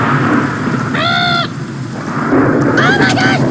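Thunder and rain in a video game: a continuous rumbling storm wash with steady rain noise, overlaid by short chirping tonal calls, one clear burst early and another later.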